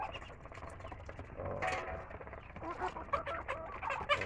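A backyard pet chicken clucks in short, irregular bursts, soft and fairly close, with faint ambient background noise and no speech.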